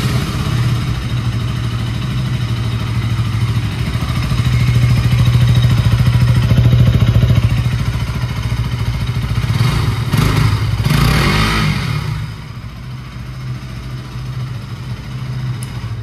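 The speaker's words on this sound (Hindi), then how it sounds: "अब मैं आपको मेन इसकी एग्जॉस्ट साउंड सुनाता हूँ" A 2024 KTM Duke 200 motorcycle exhaust idles with a steady, loud, close thrum, then revs in short bursts before settling back to a lower idle.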